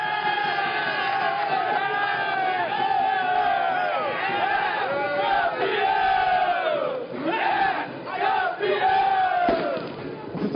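Football supporters of Ponte Preta roar and chant in unison after a championship title win, a dense, loud crowd singing with whoops and bellows that carries on without a break.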